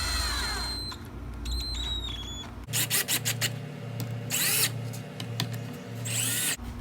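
A power driver sinking Torx head 1.25 inch screws into wood to attach a top, giving several short whirring bursts with pauses between.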